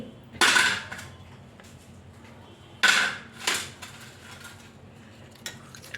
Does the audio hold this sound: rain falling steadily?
no